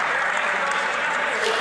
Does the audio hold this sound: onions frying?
no